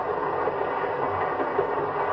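Passenger train from 1954 in motion, a steady muffled rumble of rolling wheels and carriage noise heard continuously from inside the car.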